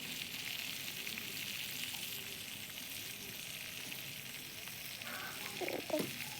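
Steady sizzling and bubbling of food frying in a pan, fairly quiet, with a few faint clinks near the end.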